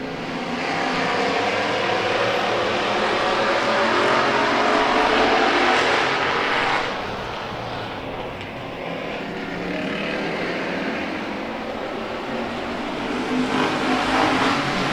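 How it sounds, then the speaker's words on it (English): Hobby stock race cars roar off at the green flag of a dirt-track heat race, a loud sustained pack of engines that swells, dips and surges again as the field passes, with no talk. "there's the green flag. We are racing. 10 laps of hobby stock heat racing."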